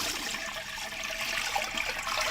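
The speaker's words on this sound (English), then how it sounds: "dump the water in the sink so it doesn't splash everywhere." A nursing assistant, still gloved, empties a plastic wash basin of used water into a sink: a steady, close rush of splashing water running for the whole stretch, with no voices.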